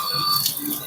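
Water gushing steadily from the outlet of a 0.5 HP motor pump just after repair and priming, a continuous splashing rush close by with a faint tonal whine running underneath.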